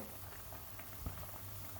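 A pot of Sri Lankan crab curry simmers and bubbles steadily, with soft popping and a low continuous gurgle close by.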